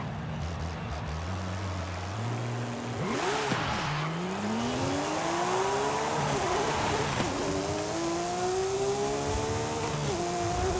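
In Forza Horizon 5, a Porsche 911 engine revs hard and raspy toward a high redline, climbing through several rising sweeps with gear changes, loud and continuous.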